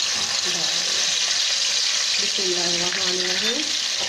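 Chopped garlic fries in hot oil in a kadai with a steady, loud, close sizzle throughout. A voice speaks faintly underneath.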